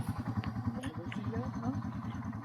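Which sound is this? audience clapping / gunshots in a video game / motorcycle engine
motorcycle engine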